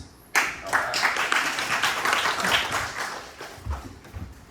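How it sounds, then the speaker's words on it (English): Audience at a robotics and world models reading club breaks into sustained applause before a keynote talk, a dense wash of claps starting abruptly and continuing steadily at moderate loudness throughout. "let's give a big round of applause to Guangming for our first"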